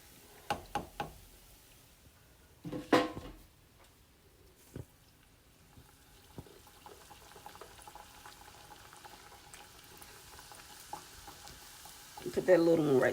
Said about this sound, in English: So I'm going to get these fried up